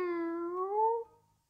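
A single drawn-out cat meow in a children's audiobook rises and then trails off over about a second, clear and close against quiet.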